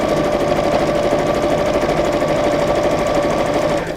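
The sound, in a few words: sewing machine stitching fabric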